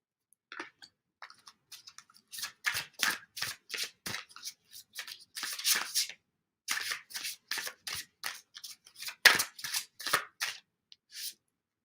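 Oracle cards are shuffled by hand, a close run of crisp riffling and snapping bursts in quick uneven clusters with brief pauses, and no one speaking.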